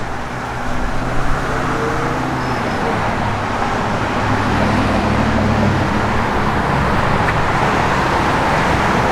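A 1967 Chevrolet Camaro RS/SS engine idles steadily and loudly for the whole stretch, a deep continuous rumble with no pauses.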